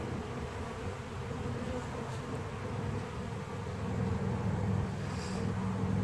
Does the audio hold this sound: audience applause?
no